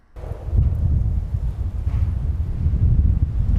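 Hurricane-force wind in Tatarstan roars and buffets the microphone in a constant, heavy low rumble with no pauses.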